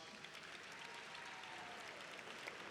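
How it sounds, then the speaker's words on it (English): A graduation audience at East Nashville Magnet High School applauds its teachers in 2024, a faint, steady wash of clapping from a large crowd that carries through evenly at a distance. "Let's give them a big round of applause."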